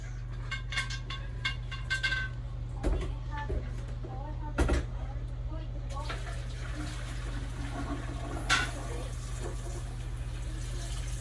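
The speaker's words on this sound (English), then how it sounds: "We'll put fresh water in it." Fresh water runs from a tap into a pressure canner, a steady hiss and splash that stops and restarts, with clinks of metal and a person talking intermittently over it.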